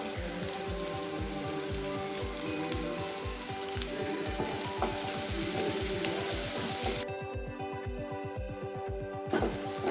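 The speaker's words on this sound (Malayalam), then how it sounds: "ഇനി നമ്മുടെ സവാള നന്നായിട്ട് വഴറ്റിയെടുക്കണം. ഒരു ഗോൾഡൻ ബ്രൗൺ ആകുന്ന വരെ ഒന്ന് വഴറ്റിയെടുക്കാം." Onions with curry leaves sauté in a pan, making a soft, even crackle like light rain that continues throughout under a faint rhythmic background beat.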